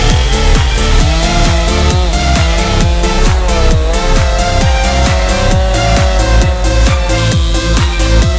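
A chainsaw cutting through brush, running loud and steady close by with a fast, continuous rhythmic chatter and no let-up.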